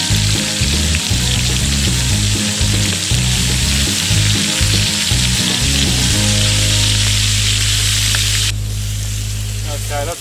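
Beef in red wine sizzles loudly in a pot over a camp fire while being stirred, a steady close frying hiss with stirring scrapes and someone talking over it.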